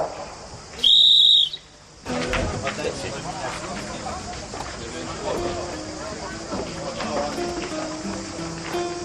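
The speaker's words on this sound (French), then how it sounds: "au sifflet de l'arbitre, démarrage" A referee's sharp, shrill whistle blast starts a Provençal-style pétanque match at the Grand Prix Midi Libre in Nîmes, lasting about a second, then a noisy outdoor crowd with scattered voices and clatter continuing underneath.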